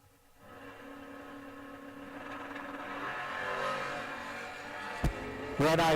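A 1974 Camaro and a 1982 S10 drag racing at a door car event in Paris, Illinois. Engines drone steadily and climb in pitch over several seconds, then a sharp bang and a loud, harsh burst of engine noise close by near the end.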